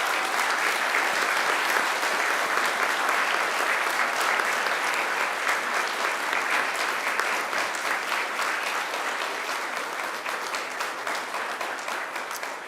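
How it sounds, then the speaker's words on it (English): Graduation ceremony audience clapping in thanks to family and friends, dense sustained applause from a large crowd that carries on steadily and tapers slightly toward the end. "I invite you to give them a mighty round of applause in thanks"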